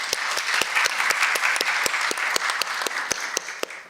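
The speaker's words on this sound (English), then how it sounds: "So we start with a huge applause for you." Audience applause for conference panelists at a small-group meeting on age in the workplace, a steady dense clatter of many hands clapping throughout, fairly loud and close with no talk over it.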